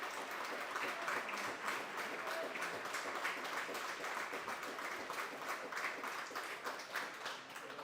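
A crowd at an amateur rugby match between Dolphin and Monkstown applauds steadily, a dense, sustained wash of clapping from many hands, moderately distant, with no voices standing out.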